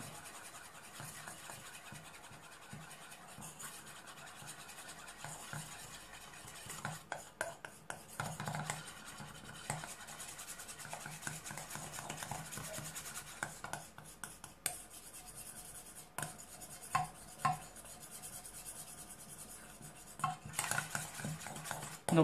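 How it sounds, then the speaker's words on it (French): A spoon stirs a makeup foundation mixture of white base and coffee-toned foundation in a small container, with faint scraping and light clinks running steadily, soft and close, under a low background hum. "nous allons remuer"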